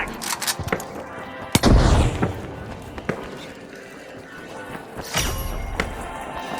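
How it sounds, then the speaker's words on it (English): Frag grenade going off in the arena shooter THE FINALS, a loud close boom with a rumbling tail among scattered gunfire cracks, followed later by another heavy burst of blasts. "Tossing a frag!"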